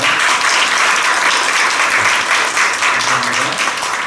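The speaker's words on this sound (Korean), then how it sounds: "박수로 환영하겠습니다" A church congregation applauds to welcome a pastor during an ordination service, a loud, even roar of many people clapping that holds steady throughout, with faint voices underneath.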